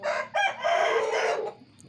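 A rooster crows once at a fighting-cock gathering: a single loud, close crow lasting over a second, with a brief break near the start, then fades into quiet.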